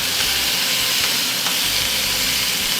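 Rouladen sear in a hot pan after being turned, giving a steady, close, dense sizzle that holds evenly throughout with no talking.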